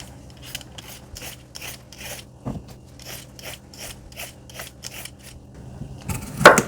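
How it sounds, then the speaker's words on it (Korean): A peeler scrapes the green skin off a cucumber for quick cucumber kimchi, a close series of short rhythmic rasping strokes, roughly a dozen evenly spaced scrapes, ending in a louder clatter. "파란 쪽으로 살짝 껍질 벗겨 줄게요"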